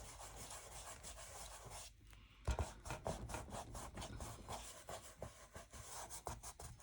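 Paper rubbed by hand to lift shapes hidden under paint, a dry scratchy rasping that starts after a short lull and keeps going in quick back-and-forth strokes close by, with no voices.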